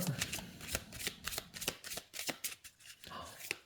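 Lenormand oracle cards being shuffled by hand, a quick series of crisp riffling and slapping bursts, close and fairly quiet, with light speech underneath.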